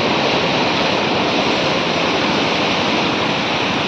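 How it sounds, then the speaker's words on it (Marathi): Incoming tide seawater washes in at a fishing spot, a loud, unbroken roar of surf that holds steady throughout. "भरतीचं पाणी बघा."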